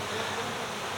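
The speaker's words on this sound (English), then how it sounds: "I got a bunch of ticked off bees" A dense, steady swarm of agitated honey bees just removed from a downed tree buzzes close by, a continuous droning hum with no talking.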